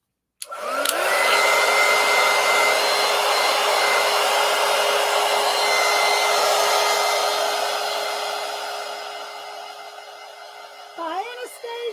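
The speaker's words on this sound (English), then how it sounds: "All right, let me dry this." A hair dryer blows steadily and loudly to dry wet paint on a mixed media poster book, running continuously for about ten seconds before clicking off near the end.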